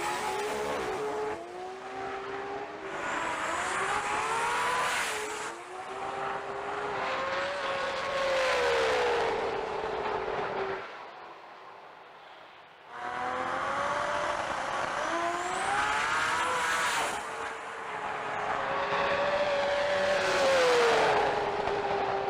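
Pro Street GTR drag race cars running side by side at an Australian sports compact drag racing meet in Brisbane, engines roaring and revving loudly through gear changes, a short lull, then another loud high-revving run.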